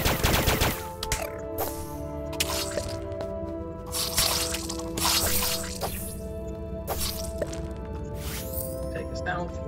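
Gunfire in Starbound, with rapid sharp shots and bursts over steady game music and sound effects, while a voice talks throughout.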